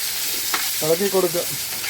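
Curry leaves, cumin and mustard seeds fry in a pan with a soft background sizzle, and a short burst of stirring clatters near the middle.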